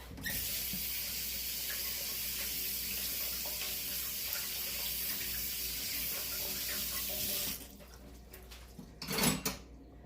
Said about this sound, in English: Let me rinse my hand off.